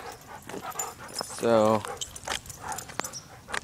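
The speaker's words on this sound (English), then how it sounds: "these two dogs are..." Two dogs on a walk give a short, high whimpering whine amid people talking, with other faint dog noises around it.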